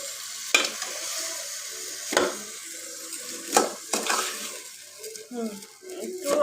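Frozen dried fish (shutki) and radish are sautéed in a pan. Several distinct scraping stirs land at irregular intervals over a low, quiet sizzle, with a voice faintly present in the background.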